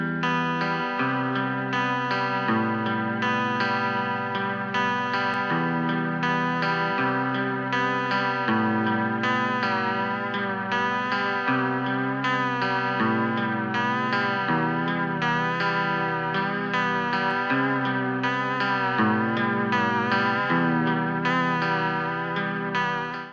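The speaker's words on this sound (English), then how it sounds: "it kind of adds that kind of wobble to it that you associate with like lo-fi and that kind of stuff" A lo-fi wobble plugin warps a looping musical phrase, the repeating chords swaying in pitch with a chorus-like, slightly distorted shimmer, playing steadily and alone throughout.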